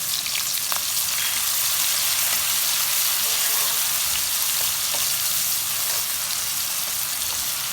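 Chopped medium onion dropped into hot oil in a pan, a loud, dense and continuous hissing sizzle, close up with no break.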